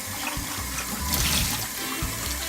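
Cold water runs steadily from a kitchen tap into a cup, a continuous hissing splash that stays even and moderately loud for the whole stretch, with no voices.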